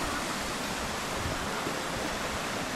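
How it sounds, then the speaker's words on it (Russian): A small stream trickles over rock in Crimea's Grand Canyon, giving a steady, close, even wash of running water that never changes across the short stretch, with no voices. "ручей."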